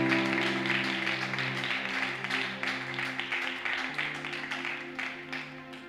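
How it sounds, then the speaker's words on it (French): A church congregation applauding a brother named Moses, a steady wash of clapping that thins toward the end, with sustained keyboard chords playing underneath. "Acclamons pour le frère."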